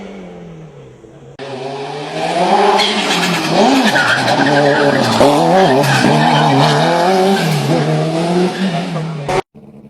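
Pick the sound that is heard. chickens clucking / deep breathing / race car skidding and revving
race car skidding and revving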